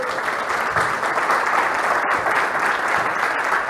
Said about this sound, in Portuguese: Palmas para Jesus pela vida de vocês.